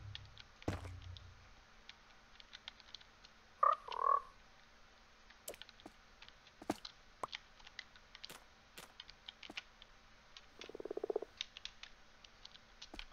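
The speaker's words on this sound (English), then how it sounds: "Okay, here's the frog." A frog in the Minecraft 1.19 video game gives two short croaks close together, then a softer croak later on, all quiet and set among scattered clicks and taps, with no speech.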